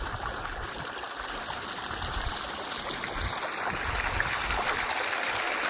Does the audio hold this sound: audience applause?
no